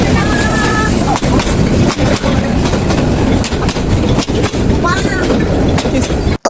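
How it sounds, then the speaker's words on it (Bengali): A train pulls into Narayanganj railway station, a loud close rumble of rolling wagons with rhythmic wheel clatter and brief squeals, steady throughout and ending in an abrupt cut. "গত 25 মিনিট ধরে ট্রেনের জন্য ওয়েট করতে করতে ট্রেন চলেই আসলো।"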